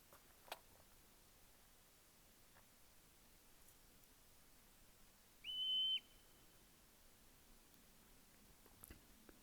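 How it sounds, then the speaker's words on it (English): A single high-pitched marmot whistle call, clear and fairly close, lasting about half a second against faint rustling background on a mountain trail in the Cascades; otherwise quiet. "The whistling noise is the marmots calling to each other."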